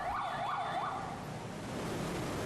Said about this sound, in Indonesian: 2 unit mobil pemadam kebakaran dikerahkan untuk memadamkan api.